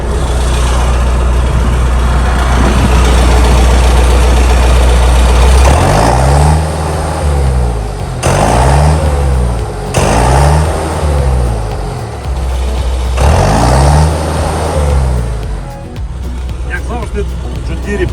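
A heavy 100-horsepower John Deere 6310 tractor engine rumbles close by, its exhaust note swelling and dropping in repeated revving bursts over a steady idle, with a voice speaking at times.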